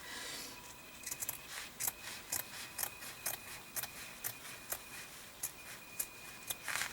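Scissor blades snip brown paper bag material in a steady run of sharp, close clicks and slices, roughly one every half second, with no talk over them.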